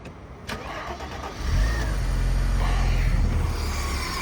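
A car engine, a 2.6 with 14k miles that has lost fuel pressure, cranks briefly, then catches into a loud, close, steady rumble that holds without any talk.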